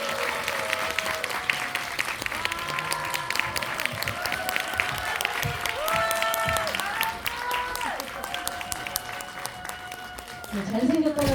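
A cinema audience at a film Q&A screening, CGV Yongsan, applauds and cheers steadily throughout, while amplified voices speak and music plays over the crowd, with the clapping swelling near the end.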